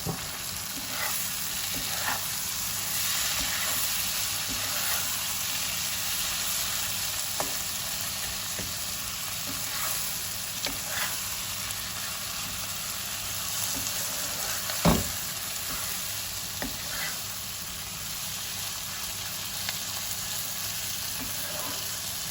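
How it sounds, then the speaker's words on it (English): Two chopped tomatoes fry in a pan for a traditional mutton ghugni, giving a constant soft sizzle with occasional stirring clinks and one sharper knock partway through, and no voices. "Now this is 2 tomatoes chopped that I'm putting in."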